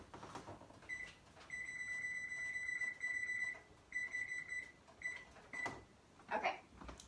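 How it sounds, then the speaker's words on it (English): A kitchen timer sounds in bursts of rapid, high electronic beeps, starting and stopping several times, quiet against faint kitchen clatter. "I should probably set the timer."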